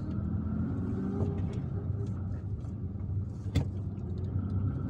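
Road traffic in the Algiers neighborhood of El Madania, heard from inside a moving car: a continuous low rumble of engines and tires, with a brief sharp knock near the end.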